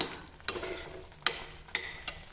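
Tomato chutney sautéing over a slow flame, a soft low sizzle broken by four sharp spoon scrapes against the pan at irregular intervals, close up with no voices.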